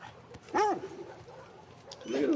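A dog in The Last of Us Part II gives a short, loud bark with a rising-falling yelp, followed by a few softer whines and a later bark, set against a quiet game background.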